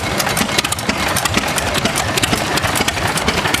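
A 1929 Palmer Marine ZR2 18-horsepower engine runs at an outdoor tractor show, giving a loud, steady, close-up idle with a continuous rapid chugging throb and no break.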